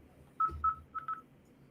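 Several short electronic phone keypad tones from an accidentally pressed button, two even beeps followed by a quicker pair, clear and close against a quiet background.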